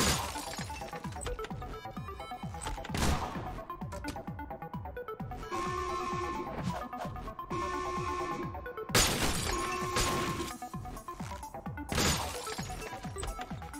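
In the video game Midnight Mercenaries, glass shatters in several loud crashing bursts separated by short pauses, over a busy game soundtrack with tinkling debris.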